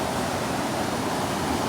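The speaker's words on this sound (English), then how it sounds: "And that's the creek. It's Ketchikan Creek." Ketchikan Creek on Creek Street in Ketchikan, Alaska, rushes with a steady, broad wash of flowing water, constant and fairly loud with no voices.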